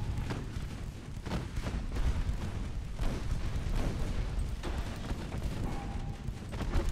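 Naval artillery salvos in the warship game Ultimate Admiral Dreadnoughts, including 6-inch guns: a steady barrage of low booms and thuds, closely spaced and fairly loud, with no talk.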